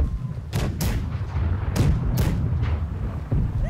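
Ship cannons firing broadside from a galleon in the naval combat game Blackwake: several heavy booming shots, some in quick pairs, spaced across the span over a rumbling background.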